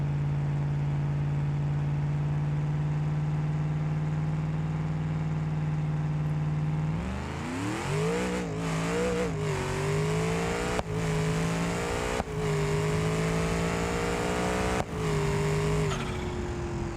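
Big-block V8 swapped into a German wagon in BeamNG.drive holds a steady low idle, then revs hard while brake boosting, the engine note climbing and dipping in repeated surges with brief cuts, loud and alone without talk.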